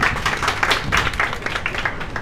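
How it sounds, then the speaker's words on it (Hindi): Sustained, dense applause from friends at a Radio Pakistan pensioners welfare association annual general meeting, many hands clapping steadily and loudly throughout without a break. "ये दोस्तों की भरपूर तालियां इस बात की गवाह हैं"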